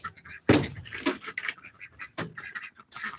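Ducks at an evening feeding quack in a scattered, noisy flock close by, with rustling and clattering sounds mixed among the calls.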